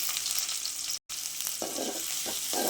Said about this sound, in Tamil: நல்லா வதக்கணுங்க. வெங்காயம் நல்லா வதங்கிட்டு இருக்கட்டும்.